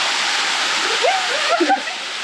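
Waterfall on a hike in Taman Negara, Malaysia, a loud constant roaring rush of falling water close by, with people talking briefly over it.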